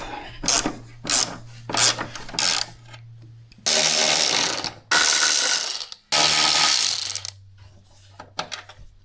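A ratchet removes 15mm bolts from a Ford Focus motor mount: quick bursts of clicking, then two long stretches of loud rapid ratcheting, close up, trailing off into a few scattered clicks.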